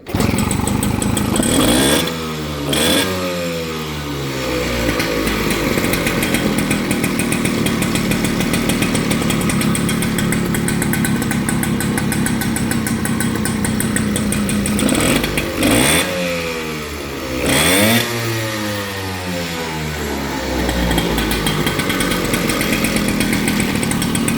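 Freshly rebuilt motorcycle engine with a new cylinder, still in break-in, idling loudly up close and blipped in two sharp throttle bursts whose pitch rises and falls before settling back to a rattly idle.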